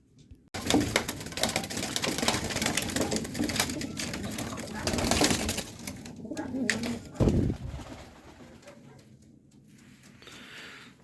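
Pigeons in a loft give soft, throaty coos close by, with rustling and fluttering activity through the first half, while someone speaks at moments; the sound thins to quiet near the end.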